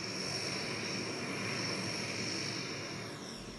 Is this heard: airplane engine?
yes